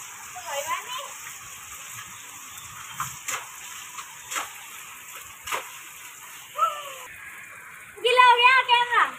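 The first monsoon rain of the rainy season falls outdoors with a steady patter and scattered splashes, while people talk and exclaim excitedly over it at close range.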